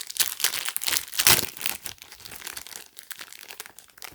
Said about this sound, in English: then take out the Ziploc bag